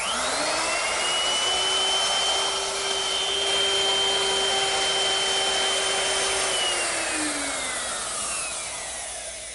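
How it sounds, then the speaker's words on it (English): Wood router fitted with a straight cutting bit and a fence cutting a tongue into a trestle table board, a loud steady high-pitched whine that holds for several seconds, then winds down near the end, with no talk. "I'm going to use my router with a straight cutting bit and a fence"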